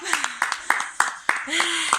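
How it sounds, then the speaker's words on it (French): A few people clap in sharp, uneven bursts while voices talk and call out over the claps, at the end of a parent-and-child exercise session. "On applaudit."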